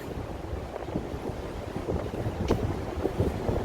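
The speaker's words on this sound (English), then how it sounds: "It's a little bit windy right now." Wind buffets the microphone in a steady low rumble with gusty bursts on a downtown Chicago street, no voices, just the rough, blustery roar of air hitting the mic.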